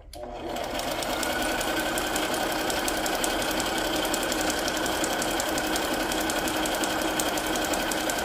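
A sewing machine stitches journal signatures in a steady, fast, even mechanical rattle that carries on unbroken at close range, with no talking over it.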